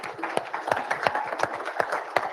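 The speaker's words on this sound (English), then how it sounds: "let's give Jason a round of applause" At a live drivers' meeting, a small group gives a round of applause for Jason. The claps are sparse and fairly faint, falling in a loose, quick rhythm with separate slaps standing out.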